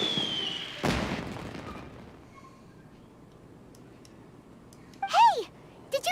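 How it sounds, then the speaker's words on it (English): A single sharp fireworks-style explosion booms in the Genshin Impact video game, followed by a fading rumble and then a short bright rising-and-falling whistle tone near the end, with no voices. "Did you hear that explosion? Maybe it was fireworks."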